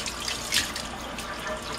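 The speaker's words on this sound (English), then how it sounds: "And I'm going to use hot water" Hot water runs steadily from a kitchen tap for rinsing vegetables, a soft continuous hiss of flowing water with a brief louder splash, close by and with no talking.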